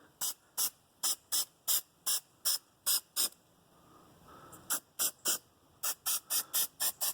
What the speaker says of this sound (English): You just spray